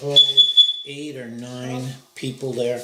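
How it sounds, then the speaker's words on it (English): A church fire alarm sounds as a steady high electronic tone early on, brief and partly masked as people talk over it. "That's the fire alarm."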